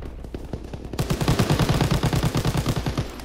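A mounted machine gun fires in Call of Duty: WWII, a few scattered shots giving way to a loud, rapid, steady automatic burst close by.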